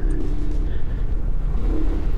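Cruisym 300 scooter engine pulling away under acceleration, a steady low rumble with a rising note that stays loud and close throughout, with no talk.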